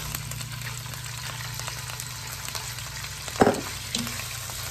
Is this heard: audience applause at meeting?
no